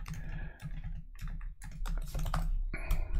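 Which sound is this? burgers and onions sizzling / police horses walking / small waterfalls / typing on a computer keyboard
typing on a computer keyboard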